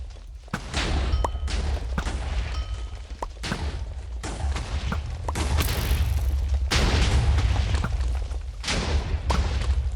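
Repeated booming explosions from exploding arrows striking targets in a video game, a dense barrage of sharp thuds and crashes following one another rapidly at steady loudness.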